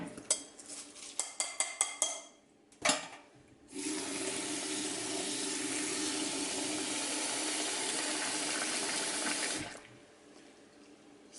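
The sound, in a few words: washing red lentils in water for dhal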